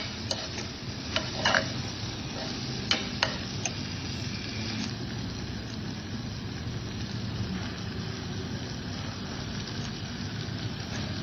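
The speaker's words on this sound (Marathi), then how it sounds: "छान परतून घ्यायचं आहे अगदी तेल सुटेपर्यंत" Chana dal sautéing in oil for snake gourd bhaji, with a steady, moderately quiet sizzle and a few sharp clicks of stirring in the first few seconds.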